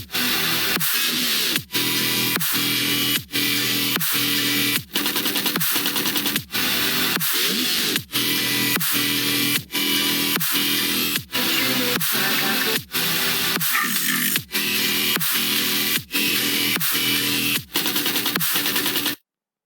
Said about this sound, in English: So the screech bass was like the main component of this part